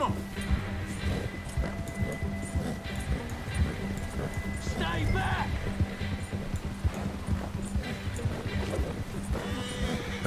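Steady horse hoofbeats clip-clop through a busy Red Dead Redemption 2 game soundscape, with a brief whinny and background ambience layered beneath occasional voices.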